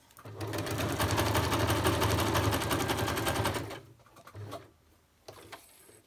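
A sewing machine runs a small zigzag stitch on Arteza felt, a loud steady whirring burst for almost four seconds, then stops, with a couple of short quieter runs afterwards.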